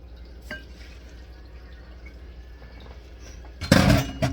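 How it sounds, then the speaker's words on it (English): Milk poured over Raisin Bran in a bowl makes a short, close liquid splash at the very end, after a quiet stretch with a single faint drip. "And we're going to add 3/4 cup of milk."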